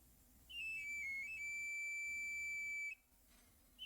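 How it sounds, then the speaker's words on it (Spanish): A knife sharpener's whistle sounds in the street, a single clear pan-pipe style glide that rises and then holds a bright steady tone for about two and a half seconds, moderately distant. "Está pasando el señor que afila cuchillos y se escucha su silbato."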